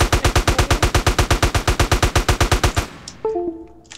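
Minigun fire in GTA San Andreas, a rapid, loud, evenly spaced burst of shots lasting nearly three seconds, then it cuts off into a short tail of echo and a few metallic clinks.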